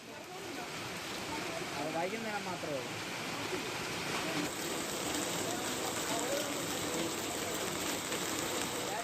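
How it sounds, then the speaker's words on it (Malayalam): Heavy rain pours down across Thiruvananthapuram district in Kerala, a dense, steady roar of water drumming on surfaces that stays loud and unbroken throughout. "തിരുവനന്തപുരം ജില്ലയിൽ വിവിധയിടങ്ങളിൽ ശക്തമായ മഴ തുടരുകയാണ്."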